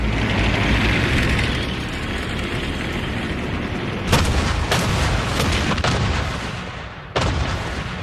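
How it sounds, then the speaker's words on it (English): A World War II artillery barrage in documentary footage, a dense continuous rumble with several sharp gun blasts near the end, one followed by a brief drop before the roar returns. "launches his offensive with a preliminary artillery barrage, followed by a massive tank assault"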